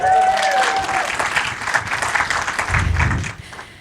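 A live audience at a podcast recording during a music festival in Boise, Idaho breaks into dense, steady applause that carries on for several seconds before fading out.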